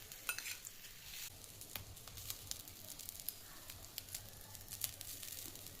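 Oil-stuffed green chillies fry quietly in a pan, giving a faint, steady sizzle dotted with small pops and crackles, heard without any talk.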